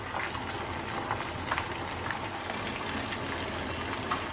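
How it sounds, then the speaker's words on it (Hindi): Stuffed sabudana (sago) patties fry in hot oil over a medium flame, giving a constant, close bubbling crackle like light rain, with no voices. "तेल गर्म हो गया है। साबुदाना की टिक्की को अंदर डालेंगे।"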